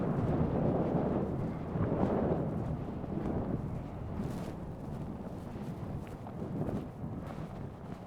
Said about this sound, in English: All right, back into the wind.